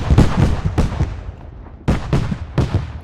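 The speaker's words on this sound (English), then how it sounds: "Now you're hearing some sort of cannon fire hitting these guys." Heavy cannon fire from an AC-130 gunship in a shooter video game booms in loud, rapid bursts of deep impacts, a volley, a brief lull, then another string of blasts.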